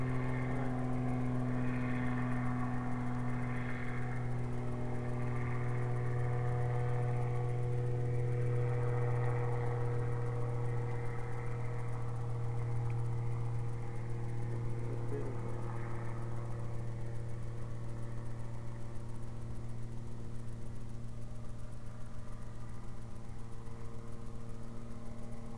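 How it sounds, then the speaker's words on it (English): An airplane passing overhead at a wild campsite makes a continuous droning engine roar that fills the whole stretch steadily, with no voices. "Let the airplane go overhead."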